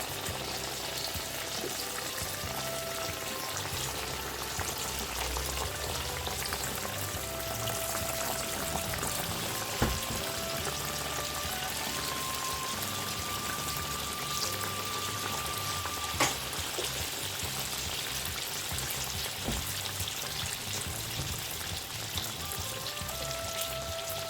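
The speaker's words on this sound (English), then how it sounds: "We're going to leave this to fry for 2 to 3 minutes before turning the other side of the donut." Continuous hissing crackle of doughnuts frying in hot oil over medium heat, steady and fairly loud throughout with no voices.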